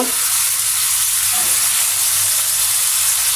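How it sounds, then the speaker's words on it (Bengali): Fish and potatoes sauté in a pan, giving a loud, steady, hissing sizzle that holds without a break and with no voices over it. "এই যে এদিকে মাছটাও কষানো হয়ে গেছে প্রায়"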